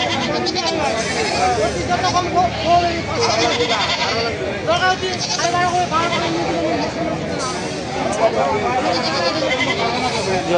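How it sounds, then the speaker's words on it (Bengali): Goats bleat over and over at a weekly livestock market in Thakurgaon, Bangladesh, many overlapping calls near and farther off, mixed with steady crowd chatter and voices throughout. "দর্শক দেখেন কত সুন্দর ছাগলের ভিডিও আপনাদের দেখাচ্ছি"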